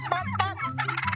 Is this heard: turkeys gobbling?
yes